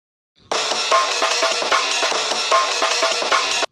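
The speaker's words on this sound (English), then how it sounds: "Yes, it's just the amen break." The Amen break drum sample loops steadily, a dense, busy breakbeat with snappy snares and crisp cymbals, loud and up front with no voices.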